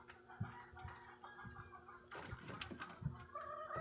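A gamefowl hen gives soft, close clucks in short bursts, with a few louder calls spaced through the moment and no voices.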